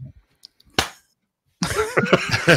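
A single sharp clap from an aviation podcast host marking the start of a recording, isolated in a quiet room, followed after a pause by conversational talk.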